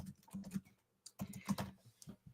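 Quiet, close keyboard typing on a computer comes in two short bursts of rapid keystrokes separated by a brief pause, with no voices.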